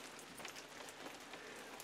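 Steady rain falls around a covered porch at an off-grid cabin, a continuous soft hiss of drops hitting surfaces with no pauses and no voices.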